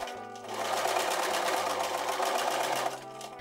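A sewing machine stitches through several layers of scrap fabric for a utility pocket, one close, continuous run of rapid needle chatter lasting a few seconds, starting up and then winding down.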